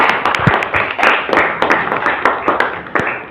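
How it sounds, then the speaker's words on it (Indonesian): A classroom of students clapping for a classmate, a dense, steady patter of many hands at close range with a few louder individual claps standing out, voices faintly mixed in. "Bapak minta tepuk tangan buat Dapira juga."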